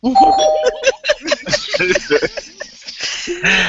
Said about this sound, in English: So let me ring the doorbell.